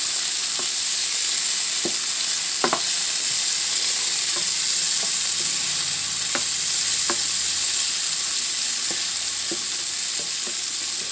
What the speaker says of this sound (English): you pour your oil in, and then once you put your veggies in the pan